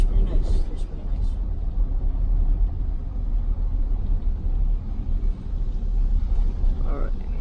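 Jeep Grand Cherokee Limited V6 on the move, steady low road and engine rumble heard from inside the cabin, loud and continuous with some voice mixed in.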